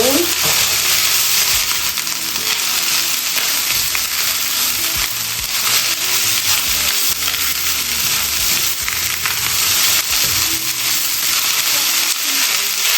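Spicy chicken fried rice with eggs sizzles loudly and constantly in a pan, with stirring and scraping heard throughout, close and with no one talking.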